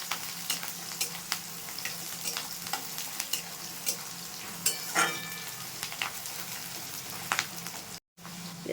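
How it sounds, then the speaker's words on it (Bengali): Onions fry in a pan for a kochur mukhi dish, a soft steady sizzle broken by scattered clicks and scrapes of stirring, with one brief cut to silence near the end. "পেঁয়াজটা ভাজা হয়ে গেছে,"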